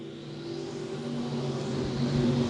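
Dirt track race cars, E Mods and Pure Stocks, accelerating off the green flag at I 35 Speedway, a droning pack of engines rising steadily in pitch and loudness, moderately distant, with no talk over it.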